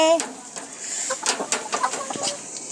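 Laying hens in a Kerala village cluck and squawk in short, uneven bursts close by, with a brief clunk early on and no speech.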